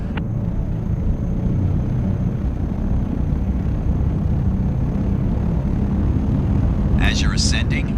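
A Dune ornithopter's engine in Microsoft Flight Simulator roars at full takeoff power, a loud, steady, dense rumble that holds unbroken, with a brief higher whine rising near the end.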